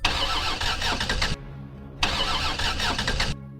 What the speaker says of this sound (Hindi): खाना खाने के बाद राहुल गाड़ी स्टार्ट करता है, मगर गाड़ी स्टार्ट नहीं होती है।